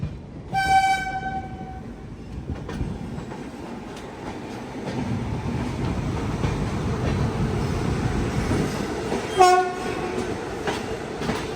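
Visakhapatnam–Gandhidham Superfast Express passenger train rolling steadily with a constant rumble, its horn sounding at the start and again near the end.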